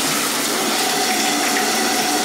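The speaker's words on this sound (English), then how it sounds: "So what I'm gonna do is turn on the water for a second" Water from a shower faucet running at full force, a loud, steady, close hiss and gush that holds unbroken throughout.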